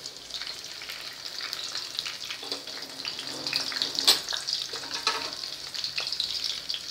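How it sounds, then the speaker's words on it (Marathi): Cumin seeds and a bay leaf sizzle in hot oil with a soft, steady crackle. Small pops and the light scrape of stirring rise near the middle, all heard close up. "त्यात हे जिरे घालायचे आहेत आपल्याला. जिरे छान फुलल्यावर तेजपान घालायचं आहे."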